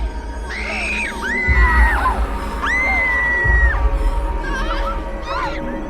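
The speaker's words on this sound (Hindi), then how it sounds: "कुछ भयानक अनसुनी चीखें सुनकर वो जाग गया" Terrifying screams in a horror story: several long, high wailing cries overlapping with whoops and yells over a dull rumbling background, with thumping low bangs at a few points.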